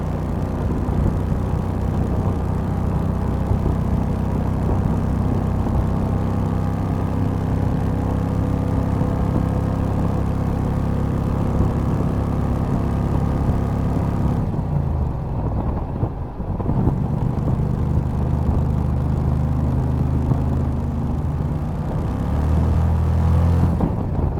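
A small Renault car fitted with a 670 cc Predator engine drones steadily low with rumbling road and wind noise, dipping briefly about two-thirds through before resuming.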